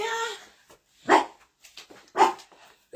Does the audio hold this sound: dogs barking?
yes